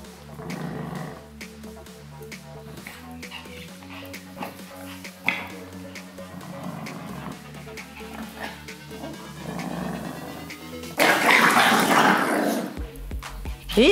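A dog growls in low rumbling bursts throughout while trying to take a toy from another dog, with snuffling and scuffling of play, then a louder burst of rustling near the end.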